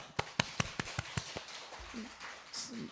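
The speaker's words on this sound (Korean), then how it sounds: "천국 박수 한번 합시다" A church congregation at a Sunday afternoon service in Korea gives a short burst of about seven even, evenly spaced claps, followed by quiet murmuring voices.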